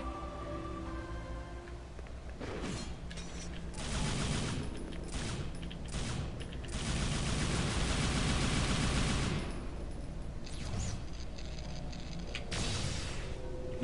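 Rapid bursts of pistol fire in the Devil May Cry 3 video game, dense crackling volleys that swell and ease across the stretch, loud and continuous with brief lulls, no talking.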